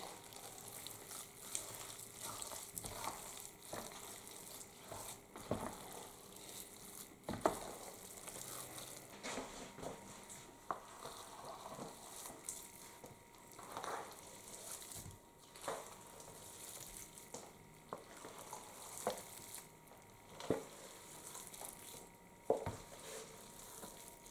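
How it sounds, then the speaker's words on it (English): Cornbread dressing mixed with gizzards being stirred in a baking pan, soft scraping and intermittent clinks of a spoon with a faint sizzle underneath, quiet and close, repeated irregular strokes without speech. "Stir this in really well."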